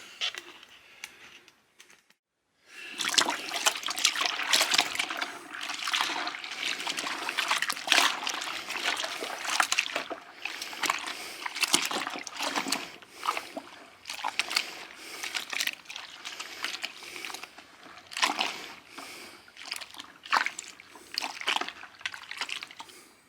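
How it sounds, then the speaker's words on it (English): Warm, soapy water sloshes and trickles continuously during washing up with liquid soap, with steady splashing and dribbling close by and no talk. "I'm going to use some of this here soap. This liquid soap, put a little bit of that in there and wash it up real good."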